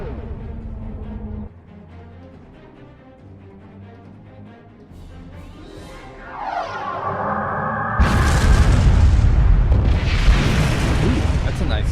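Ship weapons strike and explode in Star Trek Online, opening with quieter tonal game sounds. A rising whoosh leads into a loud, sustained boom that holds to the end.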